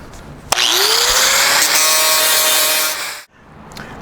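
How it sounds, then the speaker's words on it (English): A power grinder works down welds on a truck's front fender during rust repair. It spins up with a rising whine, then holds one loud, close, continuous grind for about two and a half seconds before cutting off. "So I'm just going to go ahead and grind these guys down a little bit"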